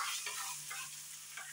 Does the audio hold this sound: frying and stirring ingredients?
yes